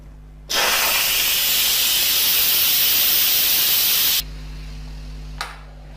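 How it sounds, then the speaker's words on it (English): Steam hisses loudly and steadily from the pressure-release valve of an Instant Pot DUO60/80 electric pressure cooker for about four seconds, then cuts off abruptly, followed by a brief faint click. "So we'll turn off the pressure cooker and release the pressure."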